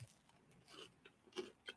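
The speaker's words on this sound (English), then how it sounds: "Apologize for crunching at my toast here." Toast being bitten and chewed close to the microphone makes soft, irregular crunches, a few brief crisp bites spread over a quiet background.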